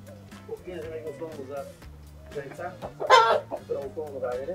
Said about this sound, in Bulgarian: Това тук са пъдпъдъци.